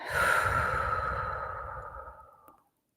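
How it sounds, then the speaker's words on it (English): One long, slow breath during a guided meditation, swelling quickly and easing off over about two and a half seconds, close and fairly loud with no talking. "Breathing in, breathing out."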